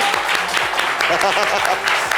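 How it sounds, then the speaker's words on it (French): Studio audience applauding a guest on a live Ivorian talk show, a short dense burst of clapping with voices mixed in. "Est-ce qu'on peut applaudir Jojo, s'il vous plaît?"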